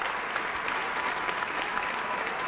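A crowd at a 2003 college men's basketball game between Augustana and Illinois gives a senior player a sustained round of applause, dense steady clapping filling the gym.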